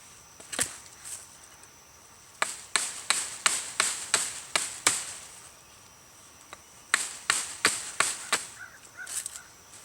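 Wood being chopped to shape the wedge end of a digging stick, a run of sharp, close, evenly spaced blows that come in two bursts with a short pause between them.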